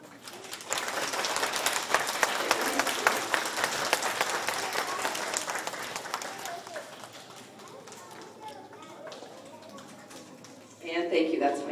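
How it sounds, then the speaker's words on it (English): A school class applauds a Student of the Month, a burst of clapping that fades into scattered noise and voices, with a short loud rise near the end. "Give them a big round of applause."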